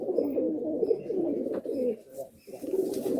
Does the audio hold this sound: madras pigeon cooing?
yes